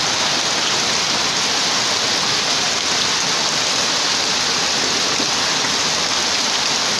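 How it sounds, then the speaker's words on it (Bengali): A heavy monsoon downpour pours down steadily during festival season as homes begin to flood, making a loud, dense, unbroken roar of rain with no voices. "বৃষ্টির গতিটা একটু দেখুন।"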